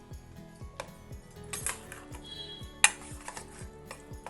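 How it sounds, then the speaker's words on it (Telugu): A spoon stirs curd into ground dosakaya-free dooda chutney in a bowl, giving soft repeated scraping strokes and a few sharp clinks of metal against the bowl, close and quiet with no talk. "ఇప్పుడు ఇందులో పెరుగు కలుపుదాము."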